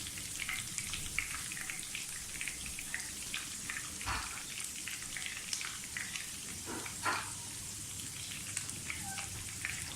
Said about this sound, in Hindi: तो फ्राई करें, बहुत ज़्यादा इनको डार्क फ्राई नहीं करना, बस सोटे करना है ये ऑयल में